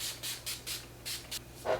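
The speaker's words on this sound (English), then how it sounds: "So now I'm going to spray my face once again." A face mist spray is pumped onto the face during makeup, several short soft hissing bursts in quick irregular succession, close and quiet with no talk.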